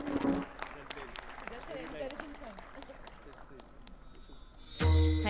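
An audience at an inauguration ceremony gives the winners a round of applause, scattered claps running under a speaker's voice before a louder burst near the end.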